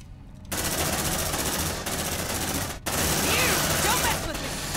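Sustained automatic gunfire in the video game Aliens: Dark Descent as squads shoot at advancing aliens, a dense continuous rattle of shots filling the clip with a brief break near the middle.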